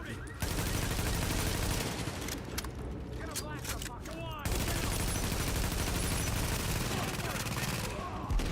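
An automated turret fires in The Division, a shooter game, producing continuous dense rapid gunfire with booms layered over it, steady and loud almost throughout, with someone talking over it.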